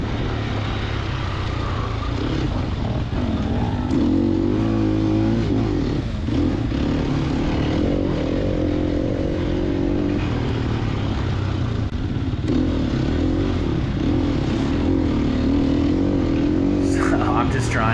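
A Sherco 300 SEF motorcycle engine revs on a trail during a TORCS enduro race at Goertz Country, a steady loud drone with rising and falling pitch and some mechanical clatter.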